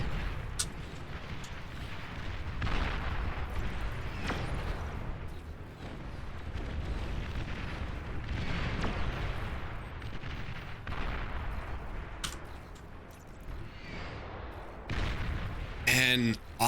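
Rapid bursts of explosions and detonations from the real-time strategy video game Beyond All Reason, with overlapping booms and crackling blasts at a moderate level throughout and a sharper burst near the end.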